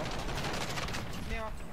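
Gunfire from a sniper rifle in Call of Duty Warzone, a dense burst of shot sounds and game noise filling the short stretch, with a brief ringing tone near the end.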